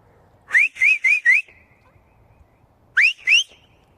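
A person gives six sharp rising whistles to call flock dogs, a quick run of four followed by a pause and then two more, loud and close over quiet background.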